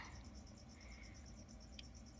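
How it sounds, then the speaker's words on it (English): Feeder crickets chirp steadily at a faint, close distance, a continuous high trilling with small pulses, set against a quiet background hum during a gecko feeding. "let's throw these crickets in there."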